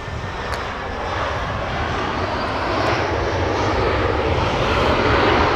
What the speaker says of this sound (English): We have a United Airlines 737 coming in hot.